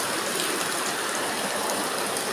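Water flows and trickles inside Kaklık Cave, a steady hissing rush with a fine, continuous spatter, close and even throughout.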